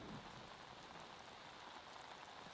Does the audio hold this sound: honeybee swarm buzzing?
no